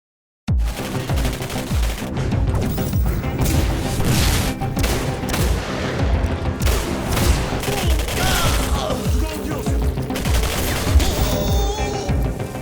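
Sustained gunfire in the video game Singularity, rapid automatic bursts and heavy shots mixed with booms and impacts, loud and dense throughout.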